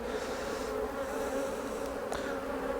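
Honeybees buzz steadily around a hive, a soft continuous drone of many insects with no voices.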